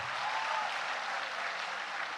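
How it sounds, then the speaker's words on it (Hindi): Audience members at a convocation ceremony clap for themselves, a loud, even wash of many hands applauding continuously throughout the clip. "अब आप अपने लिए भी ताली बजाइए,"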